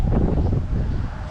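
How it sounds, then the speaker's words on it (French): Strong wind buffets the microphone during a fishing outing, a steady low roar with gusting surges and no talk. "bon, il y a beaucoup de vent."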